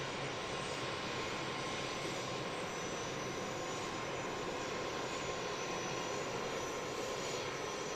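A Boeing 717 jet airliner lands at Harrisburg International Airport with a steady, broad jet roar that holds constant and fairly loud throughout, heard from a distance outdoors.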